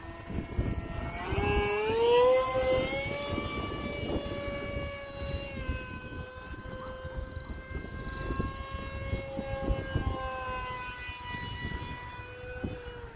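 A Hobbyzone Aeroscout S RC airplane flies overhead under lots of power. Its electric motor gives a steady high whine that bends in pitch as it passes, loudest early and then holding fairly strong.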